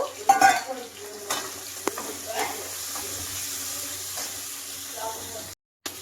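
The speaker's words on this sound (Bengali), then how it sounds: "পেঁয়াজটাকে একটু ভাজা ভাজা করে নেব" Chopped onions sizzle in a hot pan with soft stirring scrapes and a spoon knock, a steady frying hiss throughout.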